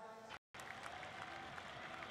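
Audience applause at a Dota 2 esports event, broadband clapping from a crowd, steady and dense apart from a short cut-out of silence early on, with faint talk mixed in.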